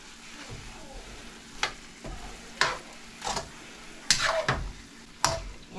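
Chicken adobo with soy sauce is stirred in a sizzling pan, the spoon scraping and clinking against the metal in irregular strokes over a steady frying hiss, close up and with no voices.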